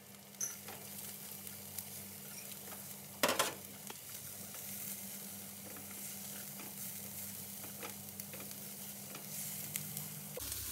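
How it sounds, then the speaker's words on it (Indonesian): Garlic and chillies stir-fry in a tablespoon or two of cooking oil, giving a soft, steady sizzle with scraping stirs throughout and one sharper clatter of the utensil partway through. "Ditumis bawang putih dan cabenya."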